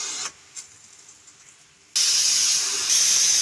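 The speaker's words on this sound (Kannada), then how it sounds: "ಒಂದು 6 ವಿಷಲ್ ಕುಕ್ಕರ್ನ ಕೂಗಿಸ್ಕೊಳ್ತಾ ಇದ್ದೀನಿ" A pressure cooker of lentil sambar with chayote vents steam in a sharp, continuous hiss that bursts on loudly after a few faint puffs and keeps blowing steadily.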